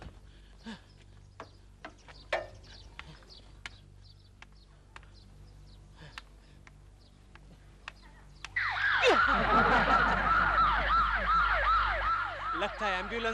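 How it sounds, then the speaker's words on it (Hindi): After scattered clicks and knocks, a loud ambulance siren suddenly wails nearby, its rapid rising and falling tone continuing to the end. "लगता है एम्बुलेंस थी।"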